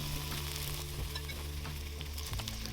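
Pork searing in a hot pan set over a pile of coals outdoors, a steady close crackling sizzle with small pops and occasional stirring scrapes, no voices.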